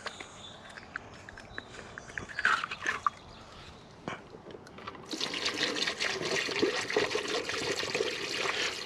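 Gray water from an RV is poured into a drain hole, first as a faint irregular trickle with handling clatter, then as a steady loud gush of splashing, draining liquid for the last few seconds.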